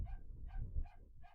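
A Cane Corso puppy barks while scuffling with another dog, four short sharp yips and barks spaced about evenly over rough, scrabbling noise, close and fairly loud.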